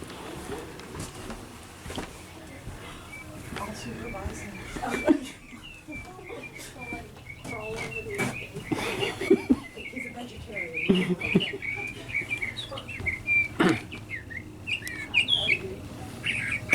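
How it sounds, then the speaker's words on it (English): Recorded birdsong plays from a computer speaker, with scattered chirps and tweets and some cooing. It sits fairly faint under room noise and intermittent clatter. "Those are not actual birds that you're hearing. That's coming out of a computer speaker."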